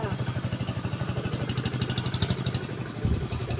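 A tractor's diesel engine chugs steadily nearby with a rapid, even thumping rhythm and rattling clatter, running continuously throughout.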